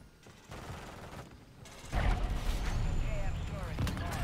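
Gunfire in MW3 Zombies video game: a burst of rapid shots and booms following a quieter opening, dense and continuous toward the end, with speech-like sounds mixed in.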